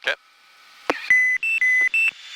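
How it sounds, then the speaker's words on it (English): Cockpit warning beeps inside an aircraft in flight: a short blip, then a series of four loud, clear electronic tones of alternating pitch, with faint cabin hum beneath. "you're going to hear a whole bunch of beeping here in about 5 seconds"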